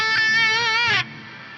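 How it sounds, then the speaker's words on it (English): An Axe Fx III reverse reverb echo swells on a guitar tone, a bright harmonic note that builds and then cuts off abruptly, leaving a faint quieter tail; no voices. "There is a reverse reverb echo effect type,"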